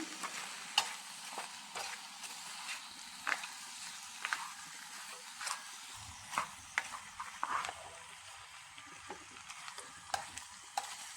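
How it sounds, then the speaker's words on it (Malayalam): Black chicken (Karinkozhi) meat for a spicy curry is stirred in a pan, a faint steady sizzle broken by repeated spoon scrapes and knocks against the metal at an irregular pace. "കുറച്ച് സമയം ഇത് ഒന്ന് ഇളക്കി കൊടുക്കാം"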